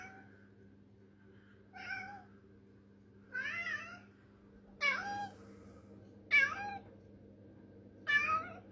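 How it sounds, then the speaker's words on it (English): A cat meows six times, spaced about every second and a half in a quiet indoor room, each cry rising and growing a little louder, with a low steady hum underneath. "Even the cat's coming over to investigate."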